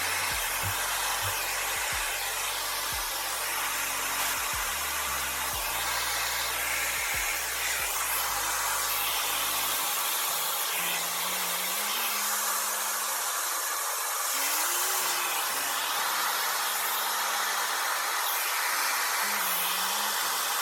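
A hair dryer on a hot setting blows with a continuous, loud, close whoosh that holds steady for the whole stretch, changing only slightly in tone as it moves.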